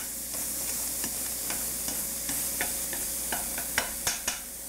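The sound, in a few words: shallot sizzling in a pan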